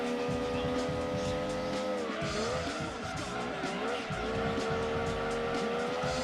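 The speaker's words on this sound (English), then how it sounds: "Drifting it round there, very nice." A Mazda MX-5 drifts round a slow corner in the racing game Gran Turismo 2, its engine droning steadily while the tyres squeal through the slide, loud and continuous from start to end.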